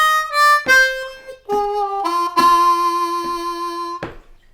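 Blues harmonica lick played on a Bb harmonica, a few separate bent and held notes, the last one sustained; close and clear, played alone with no talking.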